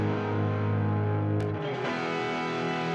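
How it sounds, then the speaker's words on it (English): A sustained, distorted electronic music passage runs through a convolution reverb set to an air or presence preset in Ableton Live, thick and steady with a brief noisy burst partway through. "I used one of these sort of air or presence presets on the convolution reverb"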